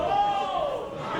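A wrestling crowd cheers and yells in a loud, sustained roar that fills a short moment.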